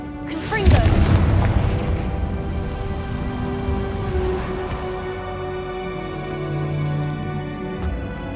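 Confringo fire spell blast from the video game Hogwarts Legacy: a sharp, loud burst near the start, then a long crackling, ringing tail that fades over several seconds beneath sustained tonal sound.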